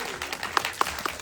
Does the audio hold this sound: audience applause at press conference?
yes